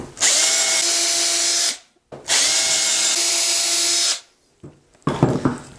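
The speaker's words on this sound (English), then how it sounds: "Drill the holes." A power drill bores dowel holes in wood through a Dowel Wizard jig, two sustained whining runs of about one and a half and two seconds each, then a brief clattering rattle as the tool is handled.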